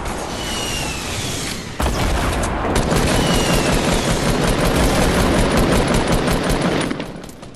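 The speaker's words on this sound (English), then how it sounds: "I'm shooting RPG." Weapon fire in a Fortnite squad match, where an RPG is in use: a dense, loud roar of rapid shots and booms runs continuously for several seconds, then cuts off, with no talking.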